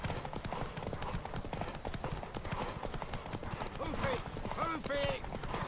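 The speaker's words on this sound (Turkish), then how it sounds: "Bizim atın hızlı, dayanıklı ve bayağı yavaş gidiyor ya." Rhythmic clip-clop of a horse's hooves galloping in The Witcher 3, steady and fairly close throughout, with a voice speaking over it and a short whinny-like cry near the end.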